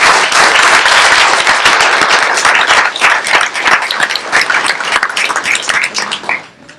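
Loud, close applause at a school board meeting honours student band members, with vigorous, dense clapping that holds strong for several seconds before tapering off quickly at the end.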